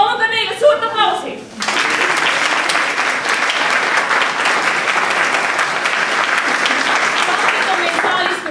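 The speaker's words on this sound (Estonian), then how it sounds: "Ma palutan neile suurt aplausi!" At a big theatre evening in a hall, a large audience bursts into loud, sustained applause that fills the space right after a short spoken line from a voice on the stage.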